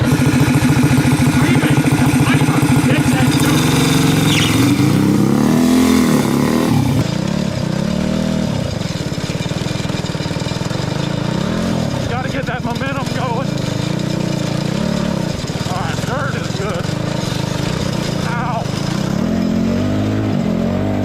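A 20HP NASCAR go kart engine running steadily through a backyard lap, a loud continuous buzzing drone that rises and falls with throttle, with speech over the top.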